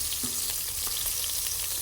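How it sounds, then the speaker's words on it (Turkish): Peppers fry in a pan over an open fire outdoors, giving a continuous dense sizzle with crackling pops and occasional stirring clinks, loud and close throughout with no talking. "Şöyle güzel güzel kızarıyorlar."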